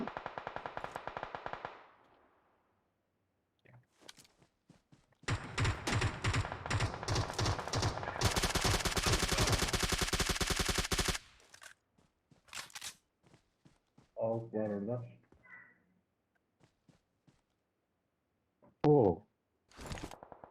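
Sniper rifle fire and gunfire in PUBG Mobile: a dense rattling burst of shots lasting several seconds, then scattered sharper bursts and isolated reports amid quiet gaps, no talk.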